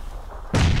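A sudden heavy boom erupts after a quiet moment, a loud low explosion with a rumbling tail, from a grenade in the video game PUBG.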